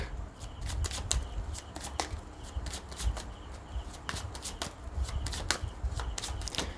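Tarot cards being shuffled up close, a steady run of crisp riffling flicks and soft slaps that carries on without pause.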